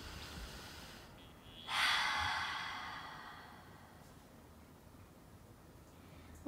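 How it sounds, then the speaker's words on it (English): A single deep exhale released through the mouth during a vinyasa yoga flow, a soft breathy rush that swells and fades slowly against quiet room tone. "Inhale through the nose. Exhale out through the mouth."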